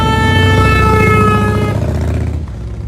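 Car and air horns blaring together at a street protest, a loud sustained chord of honking that holds steady, then cuts off and leaves a fading rumble of traffic.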